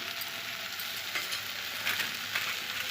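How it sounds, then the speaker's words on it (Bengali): Water spinach greens are stir-fried with potato and eggplant in a pan, giving a steady, close sizzle with faint scraping from the stirring and no talk. "আলু বেগুনটা ভালো করে নেড়ে নিয়েছি এবার শাকটা দিয়ে দিচ্ছি"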